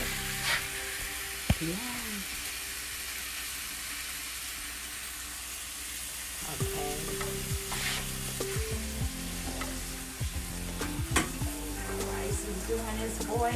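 Oxtails browning in a hot frying pan for a Jamaican-style dish, a steady loud sizzle throughout with occasional stirring scrapes and clinks, a couple of brief spoken words, and a faint background hum.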